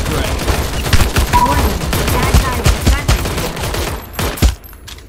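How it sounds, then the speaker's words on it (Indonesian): Gunfire in the mobile battle royale game Omega Legends Mobile, with rapid bursts of shots and impacts layered over game noise that stays dense and loud throughout, then a final sharp report before it thins out. "ada yang tembak-tembakan itu"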